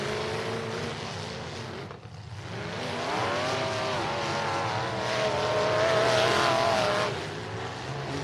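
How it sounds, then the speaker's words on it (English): Race cars racing on a track at the Prequel to the King event, engines roaring and pitch sweeping as cars pass by, swelling louder then fading. "Brian Schumann, the 86, pushing on the 424, I believe that is"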